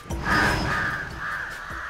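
A crow caws three times in drawn-out, harsh calls, close and clear against a faint background.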